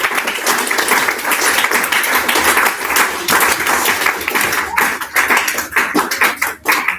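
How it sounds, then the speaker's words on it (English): Sustained audience applause at a spiritual retreat session, a dense patter of many hands clapping steadily for about seven seconds and thinning slightly toward the end. "And I think a big round of applause from all of us."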